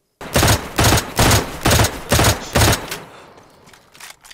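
Automatic rifle fire in the video game DayZ, five evenly spaced loud bursts in quick rhythm, each a rapid rattle of shots, then a fading echo tail and quiet.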